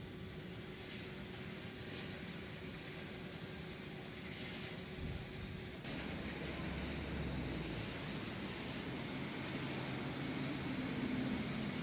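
An MD-82 auxiliary power unit spinning up in a flight simulator, a continuous turbine whine and roar that holds steady, with a shift in tone partway through and a slight rise toward the end.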